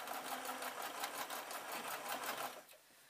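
A sewing machine stitches microfiber tea-towel cloth for a steam mop cover, running in a steady fast whir with regular needle pulses, close and loud, then stopping abruptly near the end.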